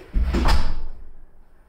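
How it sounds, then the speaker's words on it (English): A condo door swings open by itself in a quiet room, giving one soft, hollow creak-and-thud lasting under a second, then fading into stillness. "door opens on its own"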